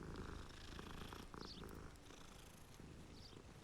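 A cat in Hogwarts Legacy purrs close and faint, a soft steady rumble with a few light chirpy sounds over it.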